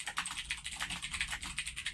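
Rapid, even typing on a computer keyboard, close and crisp, with key clicks in a steady run for two seconds and no talking.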